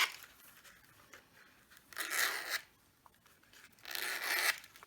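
Ribbon curled against small scissors blades for a Thanksgiving table favor box, giving two close, crisp rasping swipes of about half a second each, separated by quiet pauses.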